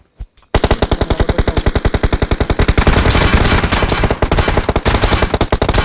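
Rapid automatic gunfire from a squad shooter video game, loud, sustained bursts of evenly spaced shots that run almost without pause after a brief quiet start.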